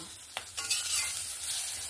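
Garlic and spices frying in a kadai, a short burst of close sizzling with a spatula scrape, loud and alone without speech.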